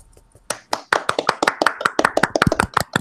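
A quick, fairly close run of hand claps, about two dozen sharp slaps in a brisk and slightly uneven rhythm, after a short quiet start.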